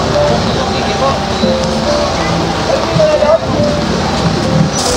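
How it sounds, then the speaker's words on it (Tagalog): Heavy rain pours steadily over a market in the Divisoria area, a dense, continuous hiss close by, with people talking underneath. "grabe ang ulan dito, hindi na tumitigil"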